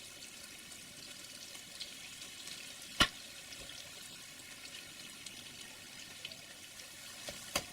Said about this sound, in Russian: Вот это зажарка в казане.